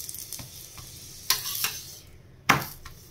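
A sattu paratha fries in oil in a pan with a soft, steady sizzle. A few sharp scrapes or clinks break in, the strongest near the end. No one speaks.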